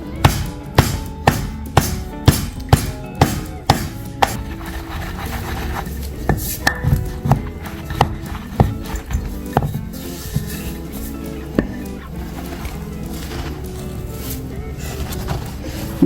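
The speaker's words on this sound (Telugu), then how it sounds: "నా దగ్గర రోలు ఉంది కాబట్టి దంచుతున్నాను." Ingredients for laddu are pounded by hand in a stone mortar (rolu), giving a run of sharp, regular thuds at first, then looser, irregular knocks and scraping grinds, close and clear.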